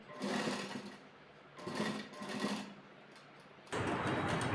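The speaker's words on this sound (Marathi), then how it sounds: "हे निशाण जे आहे तिथं आपल्याला शिलाई मारत यायचं" Sewing machine stitching along a marked line on fabric, a loud close mechanical whir in three bursts separated by short pauses.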